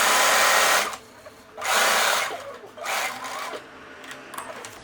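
A sewing machine topstitches fabric while sewing a long-sleeved dress, running in three loud bursts separated by short pauses, close by and with no talk over it.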